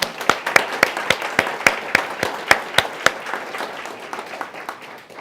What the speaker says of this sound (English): so I'd like to give them a round of applause, please.